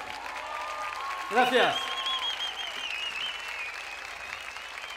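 An audience at a pro-life rally claps for someone in a steady wash of applause, while a voice briefly says thanks and a high tonal whine runs across the background.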